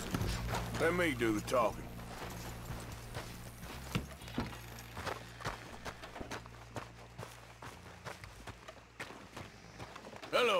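Horse hooves clip-clop on the ground amid Red Dead Redemption 2 game sound effects, with someone talking briefly and a horse's snort near the start.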